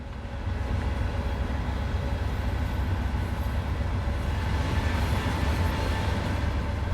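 A DB BR 363 shunting locomotive from Train Sim World runs along the Maintalbahn line, giving a steady low rumble and rolling track noise that holds loud and even throughout with no talk.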